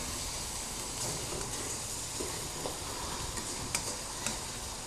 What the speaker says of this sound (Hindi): अभी मैं इसको अच्छी तरह से फिर मिक्स करूँगा ताकि जो हमारी शुगर है वो अच्छी तरह से